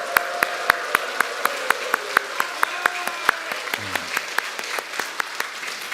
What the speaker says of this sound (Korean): 환호와 박수로 한번 그렇게 환영하겠습니다